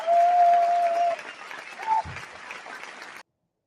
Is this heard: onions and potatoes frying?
no